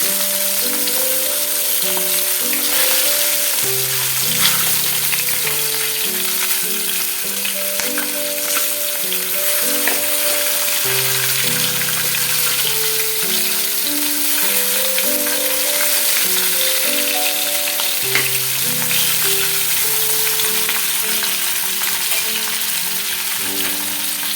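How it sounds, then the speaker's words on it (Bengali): Fish fries in hot oil with a constant, close crackling sizzle that runs the whole time, while a simple melody plays softly underneath. "মাছগুলোকে ভালো করে লাল লাল করে ভেজে নিই।"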